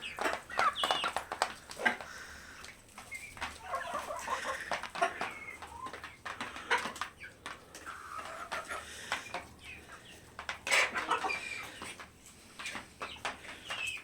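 Red hens and roosters in a backyard coop, busy overlapping clucks and short squawks at close range, continuous throughout with no talking.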